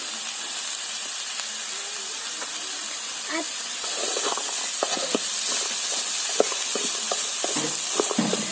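Garlic and green chillies sizzle in hot oil in a pan for a homemade mango-ginger pickle, a steady bright hiss with small crackles and spatters close by.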